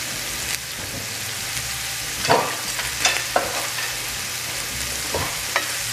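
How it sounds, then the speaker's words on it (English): Zucchini and yellow squash with a little salt sauté steadily in a pan, a constant soft sizzle broken by a few brief scraping stirs, close and fairly quiet with no talking. "we're going to let this saute for the next 5 minutes"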